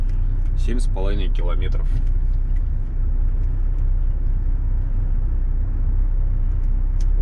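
A LAAZ bus pulls away with a loud, steady engine rumble and low road drone throughout, while someone speaks briefly near the start.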